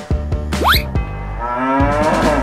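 A cow moos in a long, low, drawn-out call after a few soft knocks, close and clear, with no talking.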